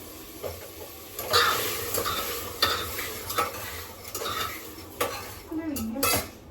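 Metal utensils scrape and clatter against a wok in irregular strokes while onion, tomato and garlic-ginger paste fry, with a soft sizzle underneath and no talking.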